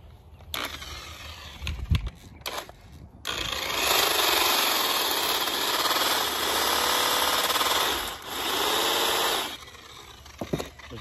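Spinning polisher pad for aluminum wheels being cleaned with a pad rake: a loud, steady motor whir for several seconds as the rake scrapes the pad, framed by brief clicks and knocks before and after.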